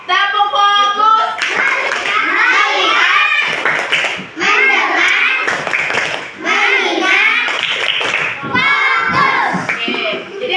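A class of children repeats the 'tepuk fokus' chant-and-clap routine before a math lesson on multiplication, voices chanting in unison punctuated by rhythmic groups of sharp hand claps.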